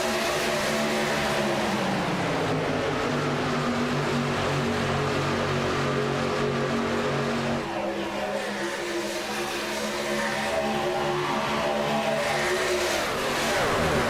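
Racing truck engines revving around a track in a contender series race, a loud continuous roar of several engines with shifting pitch, steady throughout with no clear talk.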